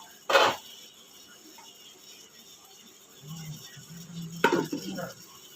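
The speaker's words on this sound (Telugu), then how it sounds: "మూత పెట్టేసుకుందాం" A lid set onto a cooking pot of tomato curry, a sharp metallic clink near the start followed by a second clatter of metal later, with a low rumble between them.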